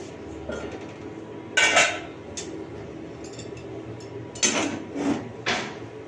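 Spinach curry with ghee stirred in a pot, a few distinct scraping and clinking spoon strokes against the metal rim, separated by quiet gaps.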